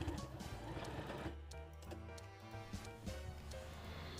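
A twin-needle sewing machine topstitches fabric at close range, a quiet, rapid mechanical stitching chatter running steadily without pause.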